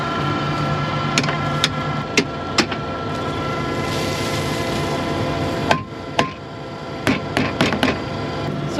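Sharp metallic hammer strikes ring out irregularly over a loud, constant engine drone, some single knocks and a quick cluster of blows near the end.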